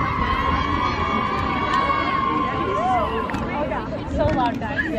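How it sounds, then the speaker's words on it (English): A sorority crowd at the Alpha Games screams and cheers loudly and continuously, with shrill whoops and shouts rising over dense crowd babble for several seconds. "So loud, guys. Yeah, scream it."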